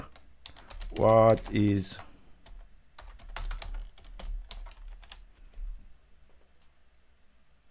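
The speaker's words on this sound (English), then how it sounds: "And let's type" Keys tap on a computer keyboard in a run of quick, light clicks at close range, following a short burst of speech and carrying on under quiet talk.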